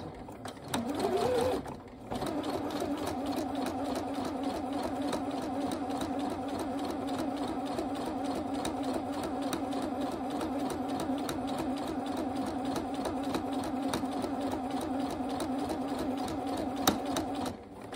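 A sewing machine runs steadily, stitching an invisible zipper with back stitches to secure the seam; a steady continuous hum holds for most of the span after a brief start.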